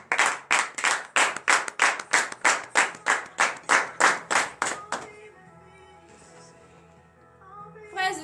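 During a morning prayer service, a congregation claps in a rapid, even rhythm for about five seconds, then the clapping stops and a quieter stretch with faint tonal sound and voices follows.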